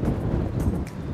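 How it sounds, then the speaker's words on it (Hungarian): Gusty wind buffets the microphone during a Triumph Tiger 1200 motorcycle ride in Prague, producing a low, rumbling roar throughout. "Szél eléggé fúj"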